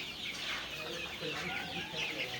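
Three-month-old country chicks of a native village breed cluck steadily in a farm pen, with soft overlapping calls over a constant background hiss.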